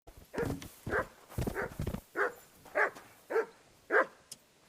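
Mutt, the dog in Kingdom Come: Deliverance II, lets out a run of sharp barks, about eight in under five seconds. They come in fairly even bursts, close and loud, with no talking over them.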